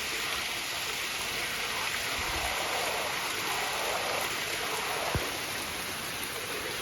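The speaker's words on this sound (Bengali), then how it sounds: "আস্তে আস্তে বৃষ্টির মাত্রা বাড়তেছে" Rain falls steadily over a village, a dense even hiss of water that holds constant throughout, with a faint thump near the end.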